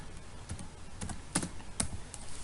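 Keys tapped at a steady, fairly quick pace on a computer keyboard while entering JavaScript array contents in Node.js code, with several sharper key strikes standing out over soft background hiss and no talking.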